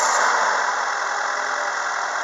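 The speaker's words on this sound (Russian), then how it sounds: "работа мотора на холостом ходу." A Renault Logan 1.6 petrol engine idles at close range, a steady even hum with no talking and no change in pitch over the short stretch.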